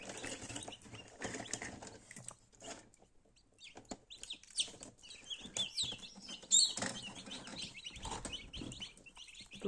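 Newly hatched chicks in a full Teplusha Lux 72-egg home incubator, heard as a dense scatter of high, thin peeps and chirps. The chirping overlaps irregularly, nearby and fairly faint, with a few brief fluttering or rustling sounds.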